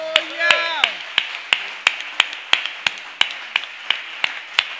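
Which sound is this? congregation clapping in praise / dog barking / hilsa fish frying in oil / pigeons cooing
congregation clapping in praise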